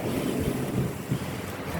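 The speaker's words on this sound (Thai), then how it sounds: "ลม ลมนะเพื่อนๆดูสิ ลมหนาวด้วย" Cold wind roars across an outdoor microphone during cooking, a loud continuous low buffeting rush with gusty swells and no talk.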